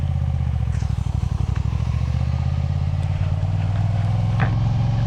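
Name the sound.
Moto Guzzi motorcycle riding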